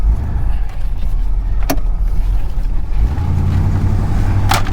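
A classic Pontiac, just fitted with new brakes and a new starter motor, drives along with a steady low engine rumble close by and no talk.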